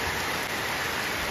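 Rain falls in a steady, dense hiss, close and even throughout the short stretch, with no voices.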